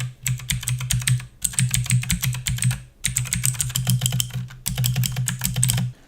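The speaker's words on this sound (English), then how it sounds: "blue kind of mechanical style key switches. Let me let you listen into this real quick." Fast typing on an AUKEY LED-backlit mechanical keyboard with blue switches, loud clicky keystrokes in rapid bursts with short pauses between, close up and alone.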